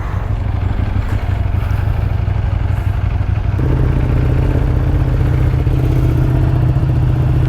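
Ducati Panigale superbike engine idling and running loudly up close, a steady deep rumbling roar with mechanical clatter that shifts to a slightly higher, fuller drone midway, continuous throughout.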